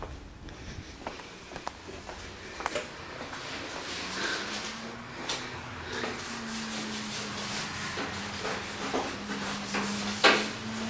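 Someone scrubs the table that sits under the grill in a restaurant's back area, making repeated close rubbing and scraping strokes, with a low steady hum and occasional knocks in the background.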